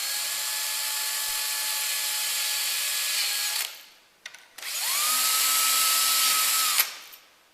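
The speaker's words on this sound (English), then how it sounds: "drill the fixing holes using, if possible, the jig and a drill bit" A power drill with a 4.2 mm bit whirs steadily in two bursts while drilling fixing holes for a rail, with a short pause between, the second starting up and running at a high, even pitch before stopping.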